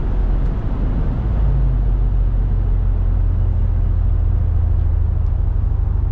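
A Mercedes ML55 AMG with Bosch ME 2.0 engine management cruises in fourth gear, a loud, steady low engine drone with constant road rumble from inside the cabin.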